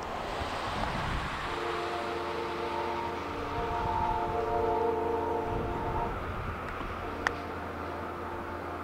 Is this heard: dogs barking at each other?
no